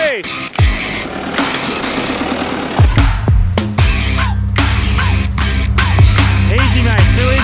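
A 4WD vehicle climbs an off-road track at Yalwal, its engine droning steadily and loud throughout, with a shouting voice briefly breaking in over the motor.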